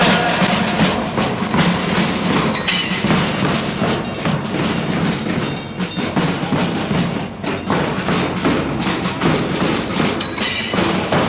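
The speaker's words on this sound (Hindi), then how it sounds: "ये जो ढोल और ये जो घोष की आवाज आप सुन रहे हैं" A school ghosh band with dhol drums plays loudly at a Republic Day parade on the hockey ground in Bareilly, producing a dense, steady rhythmic clatter of drumbeats that continues throughout the clip without talk.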